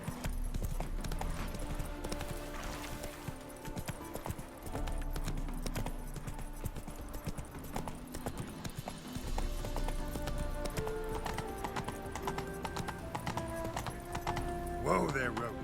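Hooves of Roach, Geralt's horse in The Witcher 3, clop steadily under game music and voices, close and continuous, with a brief whinny-like flourish near the end.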